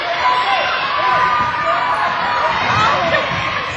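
Spectators at a high school basketball game between Scott and Wyoming East fill a gym with a steady, loud crowd roar of cheering and chatter that holds level throughout.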